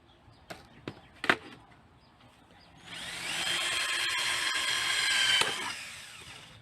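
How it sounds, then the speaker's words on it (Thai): A few sharp taps and knocks, then an electric drill whines steadily as it bores a hole in a cement-pipe pond for several seconds before stopping; no voices. "พอเสร็จแล้วเรามาเจาะรูครับ"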